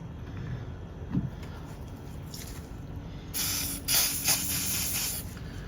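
BSI Instaset adhesive accelerator sprayed onto glued joins in Java reef rock for an aquascape: a bright, hissing spray burst of a couple of seconds close by, with a brief puff earlier, over low room rumble.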